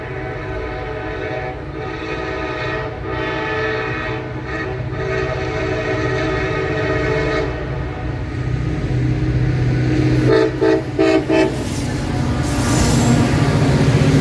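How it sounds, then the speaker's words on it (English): A CSX freight train, X521, rolls through Hartselle, Alabama behind three rebuilt SD40-3 locomotives, a steady near rumble of diesel engines and cars with a loud horn blast sounding partway through and then fading. "CSX train X521 would roll through Hartselle, Alabama with a trio of SD40-3 rebuilds leading the train"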